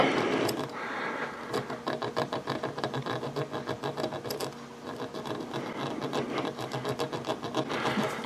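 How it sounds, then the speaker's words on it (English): A square needle file rasps against a pistol part in quick, repeated back-and-forth strokes, a close, rhythmic scratching that keeps going throughout. "I'm going to use this square needle file, and I'm just going to take off just a little tiny bit."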